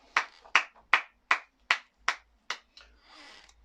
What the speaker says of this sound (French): C'est pas 1 minute de silence, c'est 1 minute d'applaudissements.